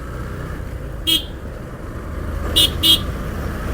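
A large MSRTC Lalpari bus rumbles along a road amid traffic noise and gives three short horn toots, one alone and then two close together, fairly near.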